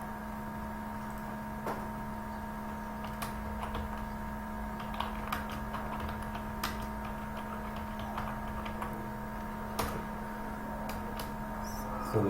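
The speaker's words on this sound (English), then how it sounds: "So I'm just typing for a sample." Someone types on a computer keyboard in a quiet room, the key taps light and irregular over a steady electrical hum.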